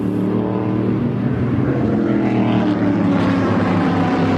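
GT racing cars, including Ford GTs, pass on the Paul Ricard circuit during a 2009 FIA GT race, a loud continuous engine roar that swells and shifts as they go by.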